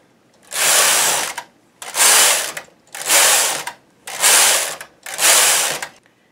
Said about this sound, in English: I'm going to start by casting on and knitting a few rows of ordinary stockinette